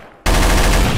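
Loud, sustained burst of M249 machine gun fire in Garry's Mod, starting abruptly after a brief quiet moment and continuing as a dense, rapid automatic stream.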